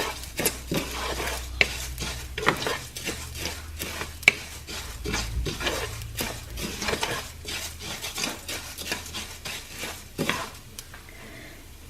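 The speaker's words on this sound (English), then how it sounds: "Keep stirring it and keep showing it that love" Rice being stirred in a pan while making Mexican rice, a steady series of scraping, rasping strokes of a utensil against the pan over a faint sizzle, continuing without pause.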